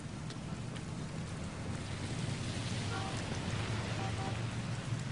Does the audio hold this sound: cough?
no